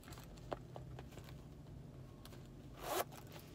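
A zipper on a black and brown Fossil wallet is pulled open in a quiet room, a faint tick early on and then one short, brisk rasp near the end.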